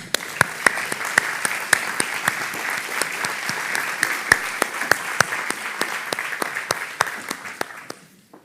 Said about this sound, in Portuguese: essora catedrática Isabel Vaz Ponce de Leão, para quem peço uma salva de palmas, por favor.